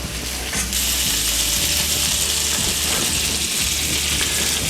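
Swedish meatballs sizzle steadily as they fry and brown in a pan, a continuous close hiss with low rumbling underneath and faint clicks throughout.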